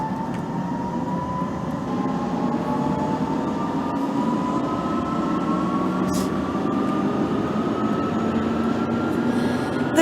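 London Underground Central Line 1992 stock train running in the BVE simulator, a steady rumbling motor drone with rising whine tones as it accelerates, continuous and fairly loud with no voices.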